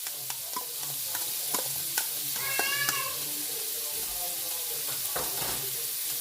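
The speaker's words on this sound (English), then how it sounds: "And I'm just going to allow this to saute." Onions and garlic sautéing in melted butter in a pot give a steady close sizzle, with light stirring clicks and a short higher warbling sound partway through.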